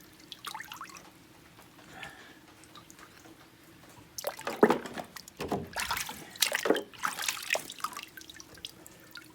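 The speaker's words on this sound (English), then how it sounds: "Here, I'll dip my hand in the water, then we can look at it." A hand dipped into a chemical bath, with water splashing and dripping in several loud bursts over the second half after a quiet stretch.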